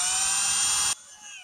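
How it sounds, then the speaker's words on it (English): A 1/8 inch drill bit boring into the plastic door of a Polaris Ranger, a high, steady electric whine that runs loud for about a second and then cuts off, leaving a faint fading hum. "We're going to start on the outside of the door with the 1/8 inch drill bit. We're going to drill a hole"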